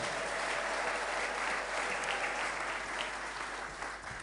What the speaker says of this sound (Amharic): እልልታ ጭብጨባ ለጌታ ክብር